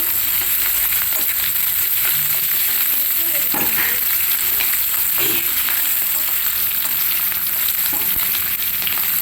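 Peanuts fry in hot oil with curry leaves in a tempering for rice flour upma, a loud continuous sizzle with occasional stirring scrapes.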